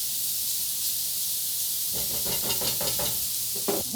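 Vegetables cook down in a hot pan for savoury gluten-free breakfast muffins, with a constant close hiss of steam and sizzle and a few quick stirring scrapes near the end, no talking.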